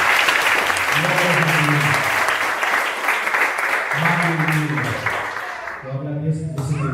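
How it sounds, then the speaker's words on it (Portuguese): A youth church congregation claps loudly and steadily throughout, with voices rising and falling over the applause. "Você pode aplaudir o Senhor?"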